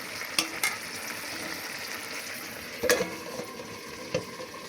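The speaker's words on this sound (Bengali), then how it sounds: "বেশ কিছুক্ষণ ধরে মাংসটা কষানো হচ্ছে" Country chicken meat, cooked with potatoes, fries steadily in a pan with a constant close sizzle, punctuated by a few sharp clanks of a spatula or lid against the metal.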